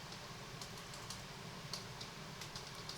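Faint, scattered key clicks from typing on a computer keyboard sit under a steady room hiss, quiet and somewhat distant, with no voices.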